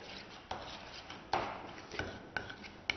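Flour and water being mixed by hand into a poolish for bread dough, a soft continuous scraping and rubbing with a few sharper knocks of utensil against the bowl, close and quiet.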